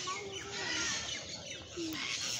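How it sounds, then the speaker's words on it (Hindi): Green parrots calling in a lake-view park in Islamabad, a few faint, short squawks and chirps over steady outdoor background noise, with no talking. "वो देख कितने ग्रीन तोते"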